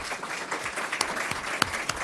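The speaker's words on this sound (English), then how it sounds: "So I will ask you to hold your applause to the very end" An audience at a town candidates night applauds, a dense spread of many hands clapping at moderate loudness that carries steadily through the whole moment.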